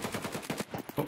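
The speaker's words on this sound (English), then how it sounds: "That's him shooting? Yeah, I think he's trying to shoot Chapman through the wood. Yeah, he has an AK." Rapid AK rifle fire from Escape From Tarkov, a fast regular string of about ten sharp shots, moderately near and fairly loud, heard alone without voices.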